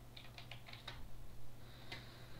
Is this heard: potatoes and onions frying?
no